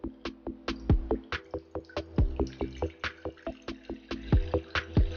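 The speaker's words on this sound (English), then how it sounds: "we're going to add 600 milliliters of water to our pot" Water pours into a cooking pot for a homemade flaxseed hair gel, 600 ml in all. It comes in uneven glugging splashes and drips, close and fairly quiet, with no talk over it.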